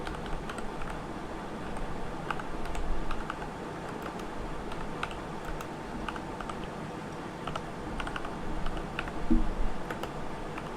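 Steady typing on a computer keyboard while entering a command in Ubuntu, dense close key clicks running throughout with a few louder taps and no talking.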